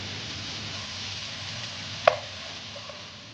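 A single crisp knife chop on a bell pepper, cutting through soft kitchen background hiss, followed by faint small clicks.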